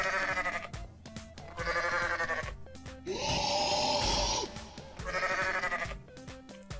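A goat in the video game Goat Simulator gives three loud, wavering bleats, with a harsher noisy burst between the second and third.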